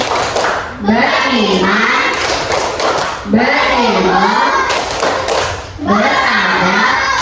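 A classroom of children performs a rhythmic tepuk clapping chant, voices chanting together over sharp, unified claps and thumps in three repeating patterned bursts, loud and close.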